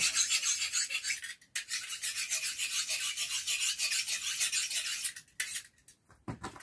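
Steady rasping scrapes of sandpaper smoothing wood, continuous with a few brief pauses, close and fairly loud, no voices.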